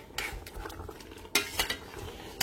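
Meat stirred in a pot with a spoon while it cooks down in its juices, giving faint scraping and clinking strokes with soft sizzling in between, quiet and close.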